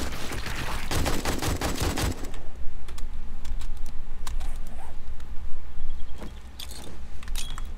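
Rapid automatic gunfire bursts in the video game 7 Days to Die, a dense loud volley early on, then scattered shots and short rattles continuing over a steady background din.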